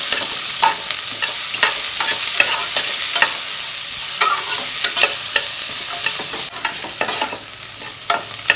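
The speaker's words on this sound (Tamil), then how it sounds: "சின்ன வெங்காயம் கொஞ்சம் பெரிய வெங்காயம் ஒரு வெங்காயம் போட்டிருக்கேன் ரெண்டும் ஒன்றா கட் பண்ணி வச்சுருக்கேன் போட்டு நல்லா வதக்கிக்கலாம்" Shallots and onions sautéed and stirred in a pan for mutton kulambu: continuous close sizzling frying with repeated spoon-scraping strokes, steady throughout with no talking.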